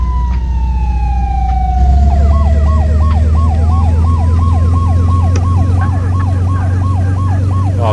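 Ambulance siren in the Flashing Lights emergency-services game, a loud wailing tone that gives way to a rapid up-and-down yelp cycling steadily over a deep engine rumble, with no talk.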